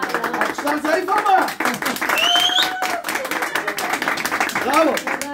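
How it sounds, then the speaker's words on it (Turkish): Light, thin applause for a young medal winner at a competition ceremony, scattered claps running through the whole stretch with chatter and voices mixed in. "Alkışlar zayıf ama"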